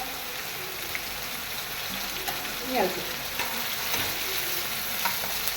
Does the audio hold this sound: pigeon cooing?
no